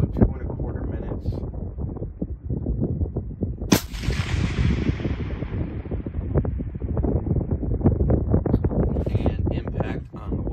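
A single sharp, loud long-range rifle shot is fired at 1,542 yards, its report decaying over a few seconds while gusty wind buffets the microphone throughout.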